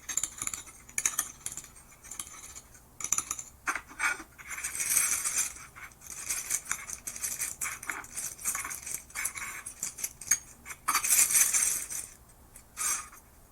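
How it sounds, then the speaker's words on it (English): Spoon stirring pink food coloring into French meringue in a bowl, making continuous close scraping and clinking against the bowl in quick, busy strokes, with no talking. "I'm adding a little food coloring. Stirring like crazy."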